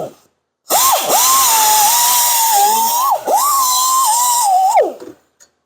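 A wire wheel on a power drill cleans the exhaust of a Lincoln Mark VIII with an exhaust leak. It gives two loud, steady high whines, each spinning up and winding down, separated by a brief dip.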